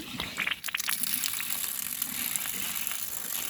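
Water sprays steadily from an RV's outdoor shower fixture during winterizing, a continuous hissing rush that stays close and fairly even throughout, with a few faint clicks near the start and no talking.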